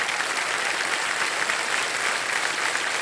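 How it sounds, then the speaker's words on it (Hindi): A studio audience on a quiz show bursts into dense, steady applause, loud and continuous for the whole stretch, with no talk over it. "एक बार जोरदार तालियां फिर से बज जाए इनके लिए"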